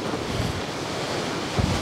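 Storm Bert's 40 mph winds batter X-Mid 2 and MSR Elixir 2 tents, a loud, continuous roar of gusting wind and buffeting fabric close to the microphone, with no voices.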